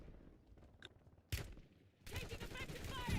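Video game gunfire cracks out in a sharp burst, then a denser volley of shots follows, fairly close, with a speaking voice faintly underneath.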